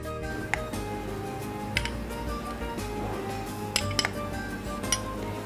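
Tomato pieces dropped into a mixing bowl while making a yogurt salad, giving a few light clinks and knocks against the bowl over steady kitchen background noise.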